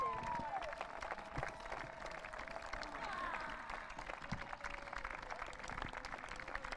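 Crowd applause for runners-up England at an IFCPF men's European Championships awards ceremony: steady, dense clapping from a large audience, continuous and fairly distant, with faint voices mixed in.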